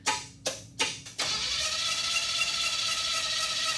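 A junkyard Chevy Tri-Five engine cranks in three short bursts, then catches and settles into a loud, steady running rumble with slight fluctuations in speed.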